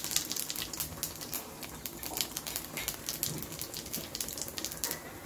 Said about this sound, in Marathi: आता फोडणीला टाकणार आहे जिरा,